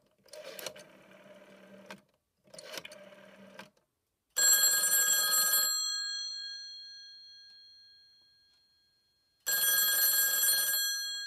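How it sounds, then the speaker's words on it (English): A US landline telephone is dialled through a PAP2T analog telephone adapter. Two short tone bursts are followed by a single loud ring that fades slowly, then a second ring starts. "So you can hear that it is indeed the single ring that you would typically hear with the regular United States landline"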